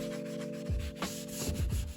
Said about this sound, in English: I'll switch to the 180 grit sanding sponge